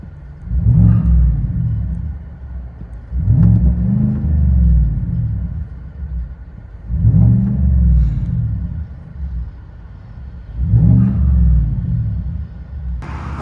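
A 2020 Chevy Silverado with a 6.2L V8 and a Borla Atak crate muffler revs four times from inside the cab. Deep, rumbling swells rise and fall at an even pace, loud and muffled, with no talk.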